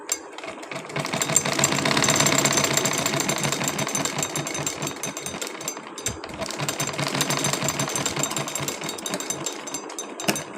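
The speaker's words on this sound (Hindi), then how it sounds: "यहाँ पे मुझे सिलाई लगाते जाना है" A sewing machine stitches fabric for a small girl's suit in a fast, steady mechanical chatter, running loud and close with one brief pause midway.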